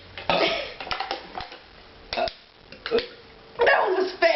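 Short guttural burps and throat noises come during a burping contest between friends, several brief bursts close to the microphone, with a voice talking between them.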